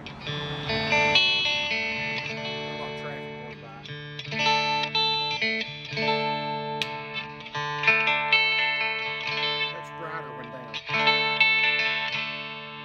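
A G&L S500 Strat-style electric guitar is strummed and picked through its middle pickup with the push-pull knob raised, producing a run of chords and notes with effects and distortion, loud and close.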